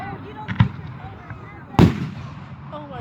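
Fourth of July fireworks in Delaware, Ohio burst outdoors, two booming explosions about a second apart over crowd murmur and a voice in the background.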